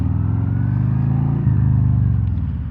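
A 2023 Harley-Davidson Road King Special with fat tires and Chrome Works exhausts rumbles close by, a deep, steady idle with a slight blip of the throttle midway.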